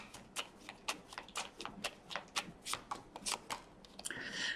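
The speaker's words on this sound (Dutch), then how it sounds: "Dan de kaarten schudden om te kijken wat week 35 voor de stier gaat brengen." Tarot cards being shuffled, a rapid series of crisp riffling snaps and flutters at close range, repeating in quick uneven bursts with no talking.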